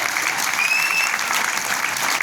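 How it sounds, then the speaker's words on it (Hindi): An indoor event audience applauds the host with brisk, continuous clapping for a couple of seconds, with a short high whistle rising over the crowd. "तो रवि भाई के लिए जोरदार ताली होनी चाहिए ना।"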